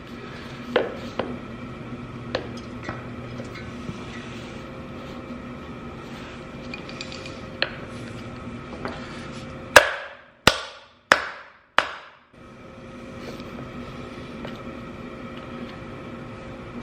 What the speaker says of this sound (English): So we're going to keep smacking it.